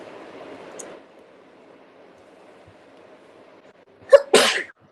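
A single sharp sneeze bursts out near the end, close and loud, after several seconds of faint background hiss and a soft voice early on.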